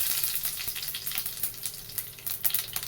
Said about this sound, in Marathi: कढीपाला पण टाकून घेऊया